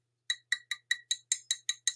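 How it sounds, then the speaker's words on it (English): A heavy perfume bottle with a metal cap clinks against a glass table in nine sharp, bright taps at an even pace. The taps are close and crisp, with silence between them and no talk. "you heard that go down on the glass table"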